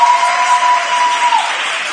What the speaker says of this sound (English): Can we take a second and give the event producer for tonight a round of applause?